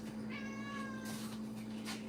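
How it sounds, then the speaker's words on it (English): Cat meowing for food indoors in a kitchen during cooking, two drawn-out, close, fairly loud meows over a steady low electrical hum. "The cat asking me to eat as well."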